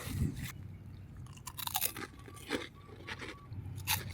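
Crunchy puffed rice snack with dried chicken shreds, vegetables and spices is chewed close up, giving repeated crisp crunches and bites at an uneven pace with no talk.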